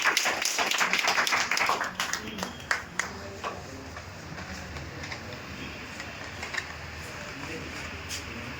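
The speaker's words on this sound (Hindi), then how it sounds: "ताली बजाइए इनके लिए।" Audience clapping at an Independence Day celebration, a burst of dense hand claps that thins out after a few seconds into scattered claps and room noise.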